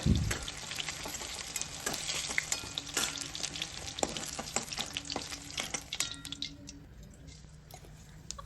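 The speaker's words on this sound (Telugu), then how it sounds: "అలా డీప్ ఫ్రై చేసి పక్కన తీసి పెట్టేసేయండి" Cut brinjals deep-fry in oil with a bubbling sizzle full of sharp pops and crackles. It starts louder and gradually eases, heard close with no speech.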